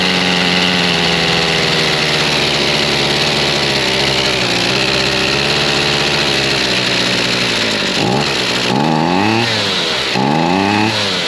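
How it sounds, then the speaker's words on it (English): A small engine idles loud and steady right after its choke is set half off, with a constant rumble that dips and swells near the end as the throttle is blipped. "It's got a good idle to it."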